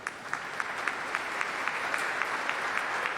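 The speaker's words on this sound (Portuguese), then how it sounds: "Uma salva de palmas" Sustained applause from an audience at a formal solemn ceremony awarding a firefighter colonel a Tiradentes Medal, with steady, evenly spaced clapping filling the room at moderate distance and no talk.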